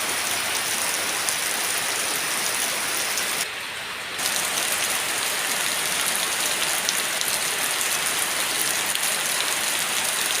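Steady rain pours down in a broad, continuous hiss of drops on surfaces, dropping briefly quieter for a moment before resuming at full strength, with no voices.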